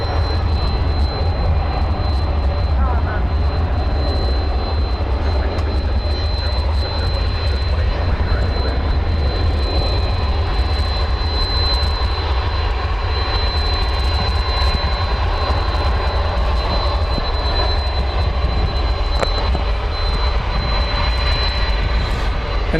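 Boeing 767 jet engines at an airport, a steady loud roar with a thin high whine running through the whole stretch, no talk over it.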